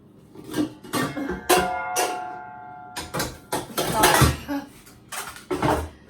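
Metal pots and pans clatter and bang in bursts while cooking pancit, with a brief ringing tone after one knock and irregular clanks spread throughout.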